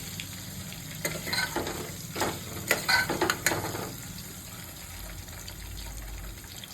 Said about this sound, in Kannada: ಸ್ವಲ್ಪ ಮೀಡಿಯಂ ಫ್ಲೇಮಲ್ಲಿ ಫ್ರೈ ಮಾಡ್ಕೊಳ್ಳಿ